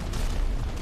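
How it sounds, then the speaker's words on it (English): Explosion in the video game Gears of War 3: a short, loud, deep rumbling boom that fills the whole brief moment, with no talking over it. "A big ass explosion"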